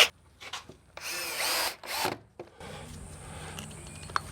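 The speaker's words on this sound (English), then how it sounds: "so screw them in so that the head then just disappears into the timber a little bit." A power drill drives countersunk screws into timber while a fence is built on a brick wall, with short bursts and one longer whirring run, followed by lower steady background noise.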